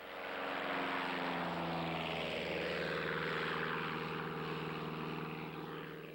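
Steady, loud propeller aircraft engine roar during takeoff, a sustained droning hum with tonal layers that swells slightly and holds without a break, no voices.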